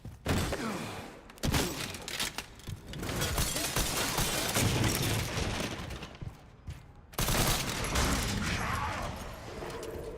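Dense, sustained machine gun bursts and heavy gunfire in the Resident Evil 9 Requiem video game, loud and nearly continuous across the stretch with a brief lull before another intense volley.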